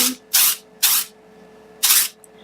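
Four short hissing bursts of texturizing hair spray (Unite Texturiza) from an aerosol can, evenly spaced and close, with quiet pauses between.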